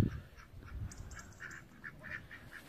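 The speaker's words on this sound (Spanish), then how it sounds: "Un precioso corral con diversos animales, gallinas," Ducks and geese call in a rural farmyard pen in Galicia, repeated faint quacks and honks scattered through the clip over a soft, low background.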